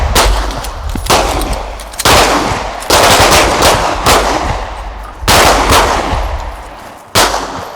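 Pistol shots ring out at a tactical pistol course drill in Dover, Tennessee, as loud, sharp reports in irregular bursts, each cracking out and echoing across the open range.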